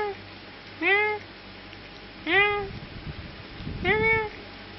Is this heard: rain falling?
no